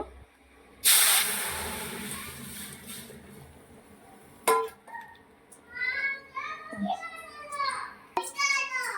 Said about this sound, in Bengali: এই যে এখন ডালটা সম্বরা দিয়ে দেব